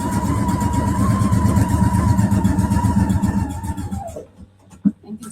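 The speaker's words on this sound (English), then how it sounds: "And continue sewing." A Husqvarna Viking sewing machine stitches a quilt with a steady, close mechanical whir that runs continuously, then slows and stops, followed by a few small handling clicks.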